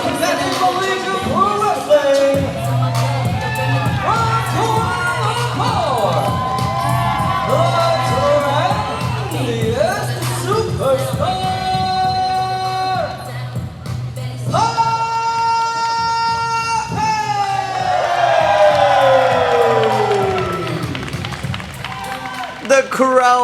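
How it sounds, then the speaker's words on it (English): Wrestling crowd at a pro wrestling show in Kuala Lumpur, Malaysia, loud continuous cheering, whooping and clapping, with voices and entrance music running underneath throughout. "The crowd goes wild for our next spicy return to the ring"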